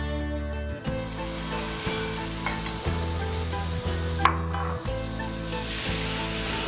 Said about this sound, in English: I'll add in my onions and mushrooms and saute it for about a couple of minutes